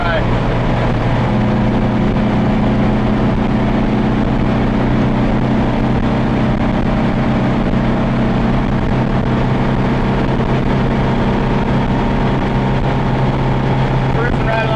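A car engine cruises at about 4,000 RPM and 80 mph, a loud, steady drone with constant road and wind noise throughout.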